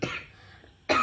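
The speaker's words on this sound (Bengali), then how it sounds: "সরি, কাশি চলে এসছে।" A person coughs twice, one short sharp cough at the start and another at the end, separated by near silence.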